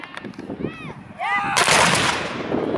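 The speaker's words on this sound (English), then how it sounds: "When they get it right, it should sound like one bang going off." Civil War reenactors at a Union and Confederate drill fire a musket volley in unison, one loud, near blast with a long rumbling tail that follows a few brief shouted commands.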